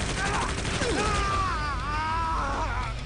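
Rapid continuous chain gun fire from the Painkiller video game, a dense steady roar of shots filling the whole stretch with warbling, whining tones on top and no pause.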